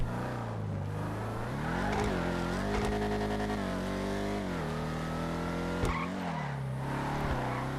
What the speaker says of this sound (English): Oh my god, my engine started!